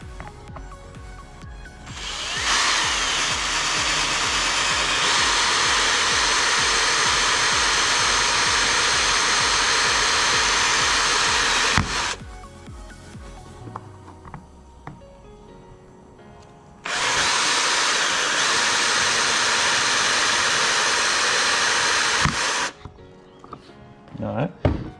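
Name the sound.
power drill drilling a hole for liquid fertilizer station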